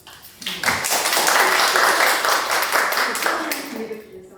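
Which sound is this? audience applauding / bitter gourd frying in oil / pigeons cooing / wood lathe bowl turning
audience applauding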